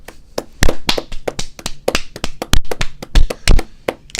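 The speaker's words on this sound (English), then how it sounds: "Let's clap it in." A small group of people claps in front of a talk-show set, loud and close, with sharp, uneven hand claps in a ragged, fairly quick rhythm and no talking.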